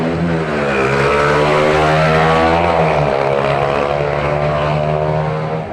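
Loud, continuous roar of highway traffic nearby, a heavy engine drone whose pitch shifts slightly as a vehicle passes, with no voices.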